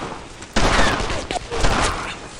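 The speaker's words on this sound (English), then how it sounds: "But I'm gonna take fucking pot shots at them this time around." Gunfire in the World War II shooter Brothers in Arms: Earned in Blood, a loud burst of rapid shots erupting suddenly and continuing in ragged volleys, with a brief voice-like sound mixed in.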